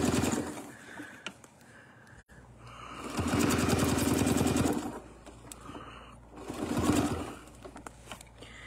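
A sewing machine quilts cross-hatch lines along a ruler template, whirring loudly and close in two sustained runs separated by quieter pauses.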